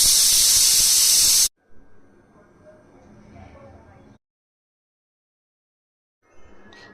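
Pressure cooker hissing steam while cooking dal dudhi, a loud, bright, steady jet of hiss for over a second, then it cuts off as a voice talks quietly.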